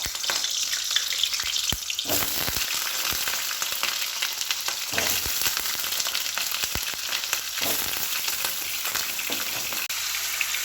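Onion and garlic frying in hot oil, a dense continuous sizzle with crackling bursts and occasional stirring clatter, close and steady throughout with no talk.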